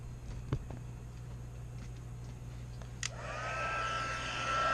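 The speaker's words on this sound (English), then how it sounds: "you take your dryer and you go along the edges, and I find it melts the tape" A hair dryer switches on partway through and runs along the edges of a Z-fold card to melt the tape, its steady airflow rising after a few faint clicks and handling noises in a quiet room.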